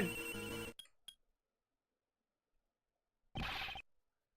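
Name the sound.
cell phones ringing in video game Ace Attorney Investigations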